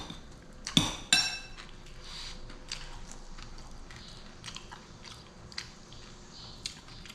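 Two sharp crunchy bites up close, then quieter intermittent crunching and small clinks against a soft background.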